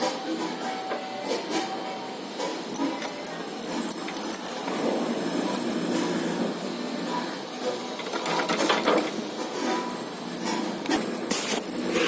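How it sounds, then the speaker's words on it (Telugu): A sewing machine stitching the folded edges of blouse fabric, giving a steady, fairly quiet mechanical whirring and rattling that runs without pause and without talk. "ఇలా మడుచుకొని ఇట్లా పెట్టుకొని అంచులు కుట్టేస్తున్నాను."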